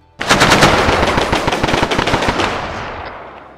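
Rapid machine gun fire in a military shooter video game, a loud sustained burst of rattling shots starting abruptly and fading with a short echoing tail.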